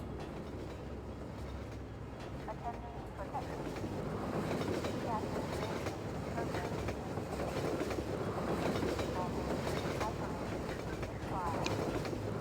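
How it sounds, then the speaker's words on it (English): A locomotive passes in the Half-Life 2 video game, giving a loud, steady rumbling roar of rolling rail cars that swells slightly and continues for the whole stretch. "it would appear another locomotive has appeared"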